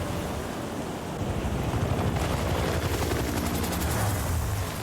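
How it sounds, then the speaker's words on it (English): In the video game Spider-Man 2, a police helicopter lifts a container and flies off. A dense, roaring wash builds after a moment into a loud, steady rotor thrum. "The police helicopter and container fly away."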